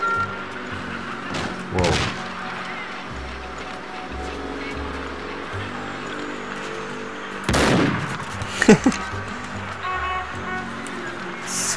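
Shotgun blasts in Max Payne 2 ring out as a few loud, separate booms with short tails, the heaviest pair close together near the end, over a low game ambience and music.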